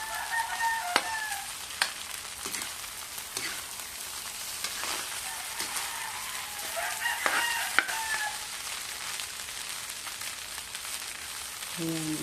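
Egg frying in a pan for fried rice, with spring onions to be added, gives a steady, close sizzle with occasional clicks of a utensil stirring against the pan.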